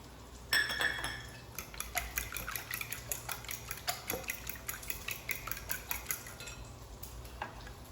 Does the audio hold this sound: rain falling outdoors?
no